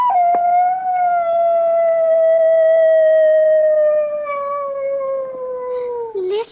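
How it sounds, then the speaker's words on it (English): Neighbor's dog heard as a radio drama sound effect: a single long, clear, sustained howl that slowly falls in pitch and ends with a brief waver, close and loud with no talk over it. "Child, that's a neighbor's dog, Mr. Hitchford."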